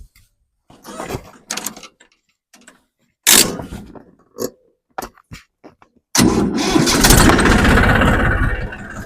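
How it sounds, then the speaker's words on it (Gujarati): Several clicks and short cranking bursts, then a second-hand Massey 1035 tractor engine catches and settles into a loud, steady diesel rumble that runs to the end. "તો તમને એકવાર ટ્રેક્ટર સ્ટાર્ટ કરીને એની પરફોર્મન્સ દેખાડી દઈએ"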